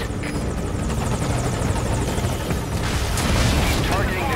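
Helicopter rotor thrum in Metal Gear Solid V: Ground Zeroes, a dense, steady chopping roar filling the whole stretch, with scattered sharp bursts and impacts layered over it.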